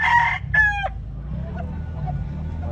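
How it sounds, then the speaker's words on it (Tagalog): Two loud rooster crows in quick succession from a fighting cock at a busy public market poultry expo in Cebu City, followed by a low crowd murmur with occasional faint clucks and distant sounds. "Gwapo manok ko."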